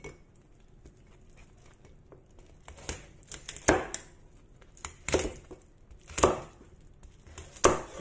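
A knife chops fried pork skin on a cutting board, close and crisp, in irregular clusters of sharp thuds that run over about eight seconds of quiet kitchen background.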